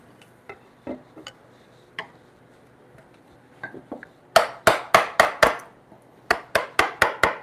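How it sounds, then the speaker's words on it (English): A mallet strikes a chisel cutting through a knot in timber frame joinery for a bunk bed. Several soft taps come first, then two bursts of sharp, loud, evenly spaced blows close by. "test the sharpness of your chisel by seeing whether it cuts through a knot"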